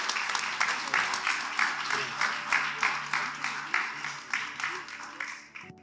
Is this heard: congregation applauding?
yes